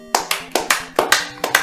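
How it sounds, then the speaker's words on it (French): About eight sharp hand claps ring out at an uneven, loose rhythm during a four-player Super Mario Bros. 3 relay, loud and close, a celebration after a tough first boss is cleared. "Je te propose d'applaudir à sa performance."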